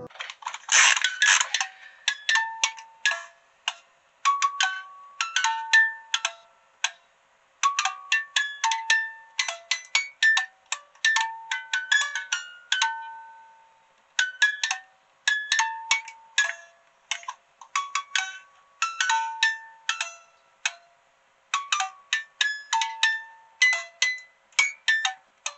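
A thrift-store merry-go-round music box plays a tinkling tune, bright plucked metallic notes in a steady melodic rhythm with a few short pauses, close and clear with nothing else behind it.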